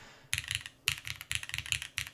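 Someone types on the Lila 60% mechanical keyboard in short, close clusters of sharp clacky keystrokes, several bursts with brief pauses between them, with no talking.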